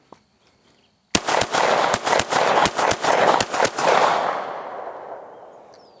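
CZ Shadow 2 pistol firing rapid shots in pairs, about nine or ten sharp, loud cracks in quick succession on a range, with a hissing reverberant tail that fades over the last two seconds.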